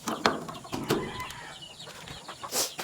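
Young chicks clucking and peeping near a home in the early morning, a few short calls scattered over steady background noise.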